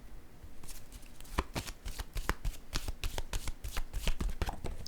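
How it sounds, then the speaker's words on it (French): A deck of oracle cards being shuffled and a card drawn, heard close up as a steady run of rapid papery riffles and flicks, with no talking. "Je vais piger une autre carte."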